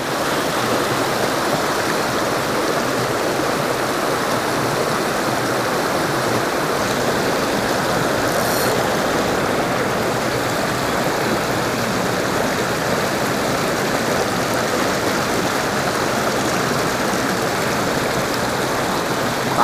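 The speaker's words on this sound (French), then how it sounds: "Ces cascades." Small waterfalls cascade into a stream with large-headed trout, a loud, constant rushing roar of falling water that fills the whole scene without pause.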